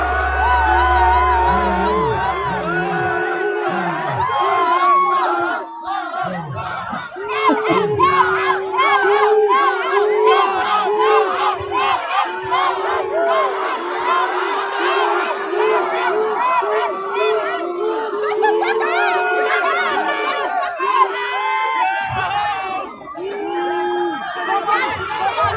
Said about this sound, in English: I didn't understand why they were booing her